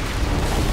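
A grenade blast from the video game Borderlands 2, a dense, loud, broadband boom that fills the whole short moment with rumbling low end.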